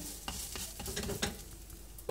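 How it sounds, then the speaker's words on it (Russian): A soft, faint sizzle of flatbread frying in a dry pan without oil, with light scraping and tapping sounds scattered through it. "Можно жарить такие лепешки на сухой сковороде без масла."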